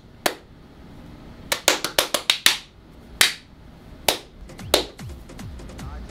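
A few people clap in a home video studio, sharp separate claps in uneven bursts, a quick run of several then single claps spaced apart, close and loud with no talk.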